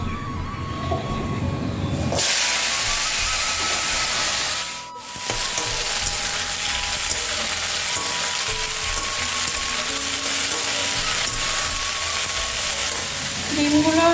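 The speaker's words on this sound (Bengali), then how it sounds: "এ পাশটা ঢ্যাঁড়স ভাজাটা বসিয়ে দিই আর এ পাশটায় ডিমটা বসাবো" Okra and eggs fry side by side in one pan, a loud, steady hiss of sizzling oil that starts abruptly, briefly dips midway, then carries on evenly and close up.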